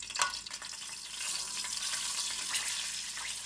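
Whole spices, four green cardamoms, two black cardamoms and cinnamon, frying in hot oil as the base for mutton palak, with a steady close, bright sizzle and a few louder crackles at the start.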